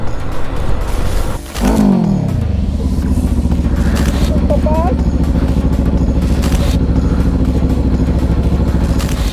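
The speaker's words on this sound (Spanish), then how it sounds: "Le pidió que le dejara acelerar la moto" A motorcycle engine revs up with a rising, then falling whine, then settles into a loud, rough idle rumble nearby, with voices faintly over it.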